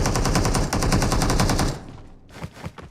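Rapid automatic gunfire from an ASM rifle in the mobile battle royale game BGMI, a loud sustained burst close up, then a few separate distant shots after it stops.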